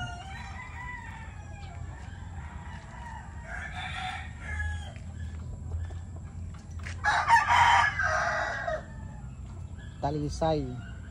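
A young rooster (stag) crows loudly near the end, a rising, wavering call, with scattered clucks and farmyard noise before it.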